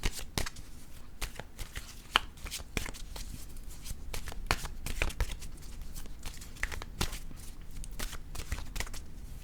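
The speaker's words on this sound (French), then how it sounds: "Je vais piger une dernière carte, un dernier message de l'univers." Tarot cards being shuffled and drawn by hand, a steady run of crisp riffling flicks and soft slaps close up, with no voice.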